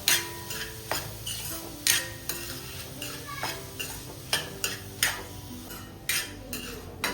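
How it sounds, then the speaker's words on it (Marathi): Mawa roasting in ghee for til-gul mawa vadi, stirred with a metal spoon that knocks and scrapes the pan in a regular rhythm of sharp clinks over a soft sizzle, close, no talk. "मी ह्या तुपामध्ये हे आपले जे मावा आहे ते टाकून घेते. त्याला पण छान भाजून घ्यायचे तुपात"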